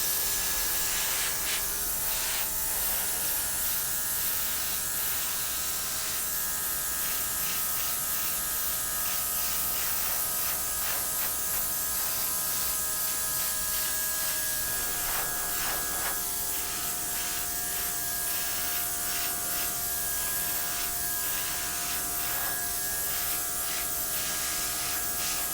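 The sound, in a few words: airbrush blowing paint edges in a Dutch pour painting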